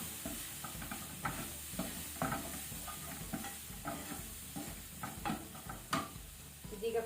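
Soy sauce masala sizzles in a pan over a low flame while a spoon stirs it in steady, repeated scrapes, close and moderately loud with no talking.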